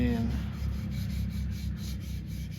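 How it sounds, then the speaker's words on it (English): A shotgun's finish is wet sanded by hand, giving a soft, steady rubbing scrape that repeats in short strokes, fairly quiet and close. "I'm going to wet sand this so you guys can see"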